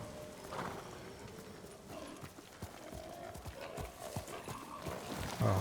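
Horse hooves clip-clopping in the video game Ghost of Tsushima, a quiet irregular run of hoofbeats with a brief whinny, mixed with faint game sounds.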